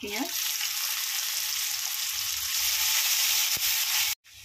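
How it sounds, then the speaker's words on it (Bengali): Chopped onions sizzling in hot oil in a pan, a steady bright crackle close by, ending in a brief cutout. "পেঁয়াজটা ভুনে নেওয়া হয়ে গেল।"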